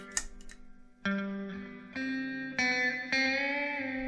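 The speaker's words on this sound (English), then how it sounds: "You can hear 2 distinct reverbs." Guitar chords struck one after another through a Joyo reverb pedal, each ringing out with a long, washy reverb tail that blends into the next, close and moderately loud.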